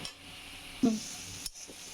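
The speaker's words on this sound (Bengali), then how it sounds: "আদা রসুনটা চিংড়ি মাছের সাথে একটু ভাজা হোক" Ginger and garlic fry with prawns in a pan: a low, continuous sizzle close by, with one brief stir or scrape partway through and a faint clink near the end, no voices.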